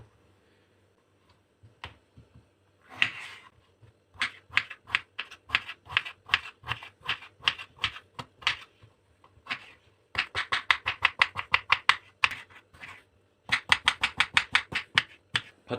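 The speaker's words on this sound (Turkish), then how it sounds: "Patateslerimiz güzelce şöyle doğrama tahtamıza doğruyorum gördüğünüz gibi." Sharp, rapid knife chops through potatoes strike a cutting board in quick bursts, pausing briefly between runs of crisp, evenly spaced taps.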